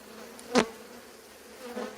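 Honey bees buzzing around an open hive frame, one close bee passing loudly in a brief buzz, then a fainter buzz toward the end over a soft steady hum of the colony.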